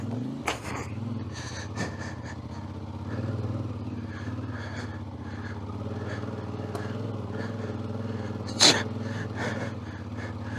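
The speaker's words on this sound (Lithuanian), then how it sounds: "Ne to kalibro motociklas važiuoja tokiais arimais." A CFMoto 450MT motorcycle engine drones steadily at close range while riding over a ploughed field, with a few sharp knocks and a louder burst near the end.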